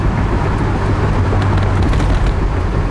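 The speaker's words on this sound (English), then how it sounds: "It sounds great with that 442 exhaust out the back." A 1969 Oldsmobile Cutlass convertible's engine rumbles through its 442 exhaust in a steady, low drone while driving, loud and constant with road and wind noise.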